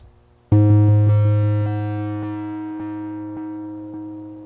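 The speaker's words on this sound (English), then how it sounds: "Turn the distortion on." A single sustained, buzzy guitar note through a Donner Dark Mouse distortion pedal rings out abruptly and slowly fades, with a faint rhythmic pulsing through it.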